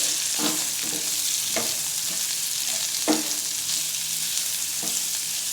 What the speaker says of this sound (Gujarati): હવે બટેટા ઉમેરી દઈએ બટેટાને બાફીને આ રીતે ટુકડા કરી લીધેલા છે તે ઉમેરી દઈએ બધું મિક્સ કરી લઈએ